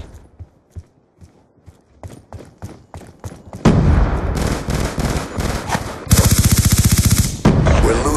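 Video game gunfire while shooting at an enemy: a series of spaced single shots, then loud, dense bursts of rapid automatic fire, including a fast, evenly pulsed stream near the end.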